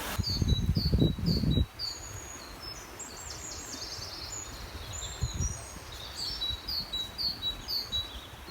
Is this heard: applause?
no